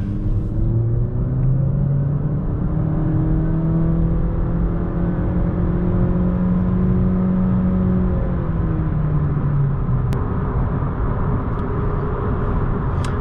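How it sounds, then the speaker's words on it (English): Inside a Honda Accord cruising on a freeway, a loud, constant low road and tire rumble fills the cabin, with a faint engine drone that slowly shifts pitch and no talking. "this Accord is significantly louder than the K5"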